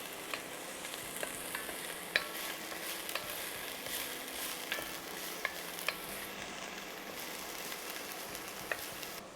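Garlic sizzling in a hot pan during risotto preparation, a steady crackling fry with scattered sharp pops and faint stirring scrapes, close and continuous throughout with no voices.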